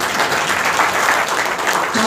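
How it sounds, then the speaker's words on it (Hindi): Audience applause at a spiritual talk, a dense steady wash of many hands clapping throughout, fairly loud and close, with a speaking voice faintly present beneath it. "ताली बजाइए।"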